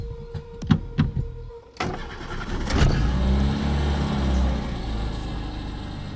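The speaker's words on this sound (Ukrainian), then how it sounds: "Так у нас працює двигунчик" A few clicks and a starter crank, then a Renault 19 engine catches and settles into a steady running idle with a brief rev.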